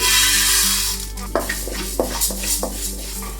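Moong dal being dry-roasted in a pan for Chettinad thenkuzhal murukku, with a low hum throughout and a series of scraping stirring strokes and light knocks of the spoon against the pan, close and without talk.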